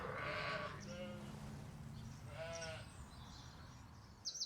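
Sheep bleat a few times at feeding time on a farm, one loud cry near the start and another a little later, over a low rumble of outdoor background noise.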